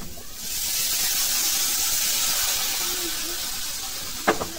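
Water is poured into a hot pan of frying vegetables for a raw green banana curry, giving a loud, steady steaming hiss that fills the clip after a quiet start, with a brief clatter near the end.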